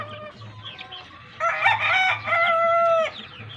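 Golden Boy Sweater gamecock rooster crowing in a backyard in Pampanga, a single clear, loud crow in one drawn-out phrase, preceded by soft low clucking.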